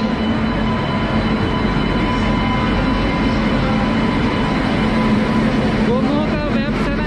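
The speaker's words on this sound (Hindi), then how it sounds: "गोमो का वेब 7 लोकोमोटिव के साथ ये ट्रेन चल रही है।" Humsafar train hauled by a Gomo-shed WAP 7 electric locomotive, heard as a steady, loud rolling rumble with a continuous drone and hum, plus brief squealing near the end.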